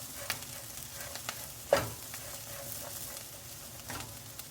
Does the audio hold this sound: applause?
no